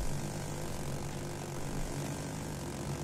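Steady, loud rotor and engine drone of a helicopter passing overhead in Rising Storm 2 on the An Lao Valley map, continuous without a break.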